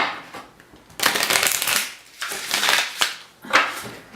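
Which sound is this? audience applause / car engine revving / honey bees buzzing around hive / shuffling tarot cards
shuffling tarot cards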